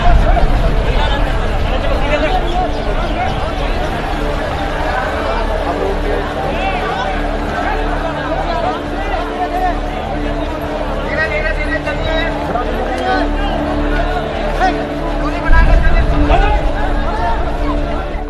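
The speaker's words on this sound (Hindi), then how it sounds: "किसी के बस की है ये भीड़?" A large crowd of migrant labourers gathered to board trains home, their loud, dense chatter and babble running continuously, close and unbroken.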